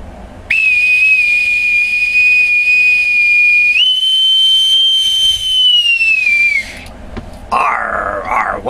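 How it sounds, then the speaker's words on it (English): A bosun's whistle piped loudly and close: a long sustained shrill tone that steps up to a higher pitch, holds, then drops off, followed by a brief warbling trill. "let me pipe aboard my co-host with my authentic bosun's whistle."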